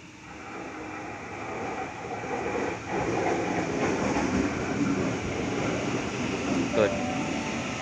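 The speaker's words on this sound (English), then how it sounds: "I also got a train behind me arriving." A Sydney suburban train pulls into Killara station platform with a steady, building rumble and faint clickety-clack over the rails, under some nearby talk.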